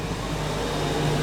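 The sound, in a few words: noisy golf cart driving by on the street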